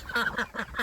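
Ducks in a chicken hoop coop give four quick, close quacks in a short burst, loud and alone.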